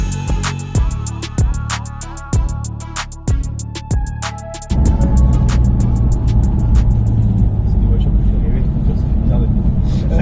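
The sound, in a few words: Porsche GT3 RS accelerating on track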